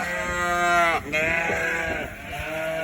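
Ewes bleating as their lambs are weaned, loud close overlapping calls from several sheep, one long bleat breaking into others, no talk.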